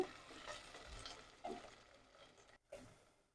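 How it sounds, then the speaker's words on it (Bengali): Shrimp frying lightly in oil in a pan, a soft crackling sizzle with stirring scrapes, fairly quiet and steady with a short pause near the end before the sizzle resumes. "চিংড়ি মাছটা হালকা করে ভেজে নেব"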